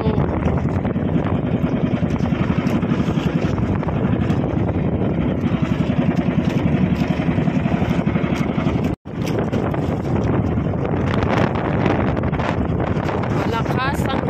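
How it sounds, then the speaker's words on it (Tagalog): Strong wind buffets the microphone at sea on a fishing trip for tanigue, a steady loud roar filling the whole clip, briefly cutting out near the nine-second mark, with possible boat engine noise underneath. "Malakas ang hangin."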